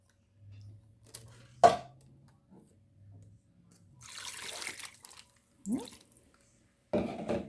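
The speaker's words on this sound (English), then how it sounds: "dump 1 can of beef consomme and another same amount of that of water" Canned beef consomme and water are poured into a pot for French onion pork chops, heard as a few separate splashing pours with quiet gaps between them.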